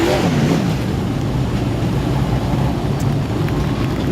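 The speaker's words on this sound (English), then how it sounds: "There's a set of donuts coming from the Q36." A Q36 super sedan race car spins donuts at Albany Speedway after an Australian Title A-Main, its engine a continuous loud, rough drone mixed with broadband rushing noise, steady throughout without a break.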